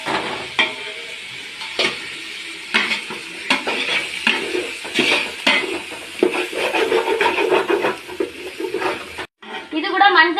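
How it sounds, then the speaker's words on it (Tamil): Ginger garlic paste, tomatoes and green chilies sauté in a pan for chicken biryani, giving a steady close sizzle with repeated scraping stirs and utensil clinks, a brief pause near the end before frying resumes. "இது கூட தக்காளி, பச்சை மிளகாயும் போட்டு நல்லா வதக்கிக்கலாம்."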